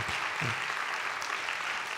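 Congregation applauding a missionary's wife at a Philippine church's short-term mission team praise festival, a steady wash of moderately quiet clapping throughout with a few low voice murmurs underneath.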